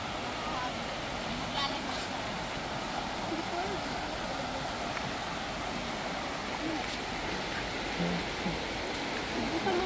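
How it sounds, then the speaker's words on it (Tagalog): Rushing water of a river that has suddenly flooded, a dense, continuous wash of broadband noise heard up close and steady throughout, with faint voices occasionally under it. "First time mag-ilog, binaha."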